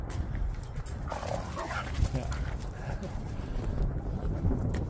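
Several dogs bark as they run toward the recording outdoors, a loud, busy mix of yaps and footfalls under wind buffeting, with a brief voice.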